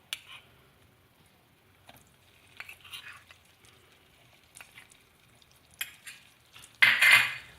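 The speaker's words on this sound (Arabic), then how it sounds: "ونخلطوا بسرعه" A whisk works flour into melted butter in a cooking pan: sparse light clinks and scrapes of metal against the pan, then a loud, fast burst of vigorous whisking at the end.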